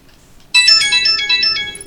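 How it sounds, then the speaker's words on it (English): A mobile phone ringtone plays suddenly and loudly, a bright, fast-repeating electronic melody heard close and alone. "I forgot to mute my phone."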